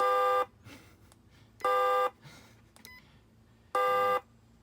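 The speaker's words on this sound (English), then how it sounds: "that honks the horn" Three loud electronic horn honks, each a short steady toot, evenly spaced with gaps between, over faint background noise and light clicks.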